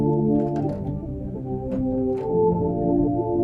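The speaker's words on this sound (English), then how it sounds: "So I found this sound that says Cosmic Duet Pad." Cosmic Duet Pad preset from Arturia Analog Lab sustains as a warm, layered synth pad with steady harmonic tones and soft swells, played alone with no talk.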